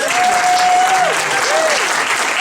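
Studio audience applause at a live improv comedy game show, a steady wash of clapping throughout with no gaps, loud and close.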